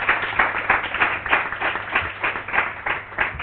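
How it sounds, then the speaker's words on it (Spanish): Applause from a meetup audience after a talk, a steady wash of many hands clapping with a slightly pulsing rhythm, moderately loud and heard alone without voices. "un fuerte aplauso a..."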